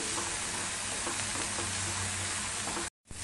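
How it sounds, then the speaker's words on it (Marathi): Pigeon peas roasting in a pan, a steady close sizzle with faint stirring scrapes that runs continuously, then cuts out briefly near the end. "आता 2-3 मिनिटं तुरीचे दाणे सुद्धा चांगले भाजून घेतलेले"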